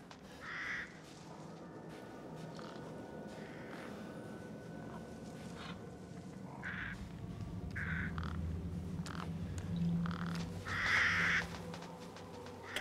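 Crows caw repeatedly in Resident Evil Village, with harsh calls spaced irregularly over a quiet, rumbling ambient game background and no talking.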